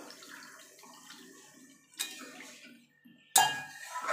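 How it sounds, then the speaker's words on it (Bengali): Water goes into a pan of spiced, fried potatoes with a sudden splash and sizzle after quieter clinks of a pan and utensil in a kitchen. "এবার জল ঢেলে দেবো"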